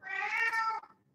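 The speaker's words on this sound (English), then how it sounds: "the cat meowing would be a very good sentence to learn at the moment" A domestic cat gives a single clear, close meow lasting under a second, with no other sound around it.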